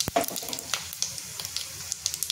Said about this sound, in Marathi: त्याच्यामध्ये मी मोहरी टाकते, जिरं आणि आधी मी शेंगदाणे टाकते